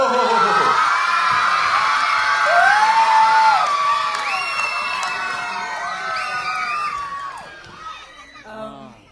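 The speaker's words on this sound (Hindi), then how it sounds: "तालियां सीटियां बज रही हैं नाम पे" An audience at a Rocket Gang film promotion event whistles and cheers, with rising and falling whistles and shouts over crowd noise, loud at first and then tapering off.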